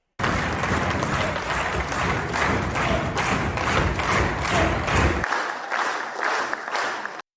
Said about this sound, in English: Now take a listen to the applause in this room